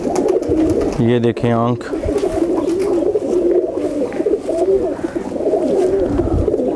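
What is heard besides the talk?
chatri pigeons cooing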